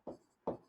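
Two brief chalk or marker strokes on a classroom board, quiet and close, separated by a short pause.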